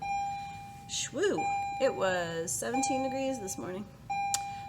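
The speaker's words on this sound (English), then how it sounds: "Sorry for the bell noise." A steady electronic bell tone rings in the background while a person talks over it, cutting off briefly and returning near the end.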